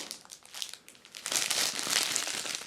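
Clear plastic bag packaging around a mini panettone crinkles close up, starting with light scattered rustles, then swelling into louder, sustained crinkling as the bag is handled.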